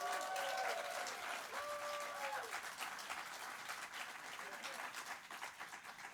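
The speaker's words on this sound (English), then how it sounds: "Thanks for clapping, guys." Steady applause from a large crowd at a live celebration-of-life program, many hands clapping at once, with a voice speaking over it early on.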